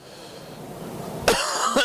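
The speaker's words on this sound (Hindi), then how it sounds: "ठंड लग रही है इसलिए मुझे खांसी आ रही है।" A man coughs twice in quick succession at midnight in a cold outdoor eco garden in Lucknow, sharp and close against a steady background hum.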